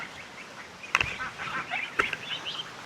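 Several young ducks give soft, short quacks and peeps on a muddy farm near water, a few brief calls scattered in an irregular rhythm at moderate distance, with no talk.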